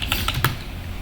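Rapid keystrokes on a computer keyboard while an install command is entered in a terminal, a quick cluster of close, crisp clicks with no talking.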